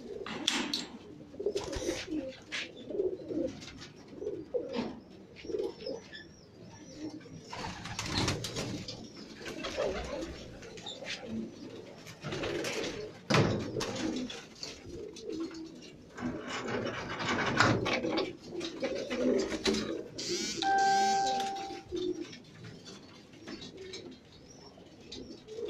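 Teddy pigeons on a rooftop coo softly and keep up a low murmur, mixed with rubbing and scraping noises throughout, with no talk.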